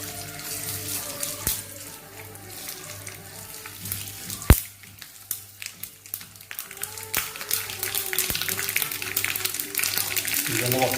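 Hot coconut oil sizzles and crackles steadily in a pan during cooking of a pumpkin and tamarind curry, a continuous close frying hiss under a person talking.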